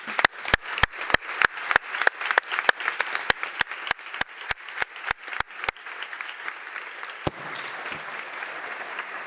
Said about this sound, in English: please join me in giving them a warm welcome and a round of applause.